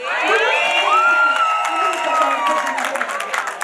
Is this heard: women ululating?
yes